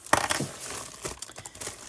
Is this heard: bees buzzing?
no